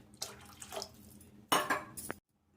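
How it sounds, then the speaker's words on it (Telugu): Water poured into a pot of murrel fish curry, a short splashing rush with a brief metallic knock at the start, then a louder gush that cuts off abruptly, close by and with no talking. "ఇంకాస్త వాటర్ వేస్తున్నాను."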